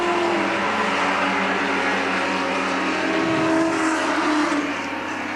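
Moffat's car at the 1975 Bathurst race drives into the pits, its engine a steady loud drone with a slight dip in pitch near the end, with no talk over it.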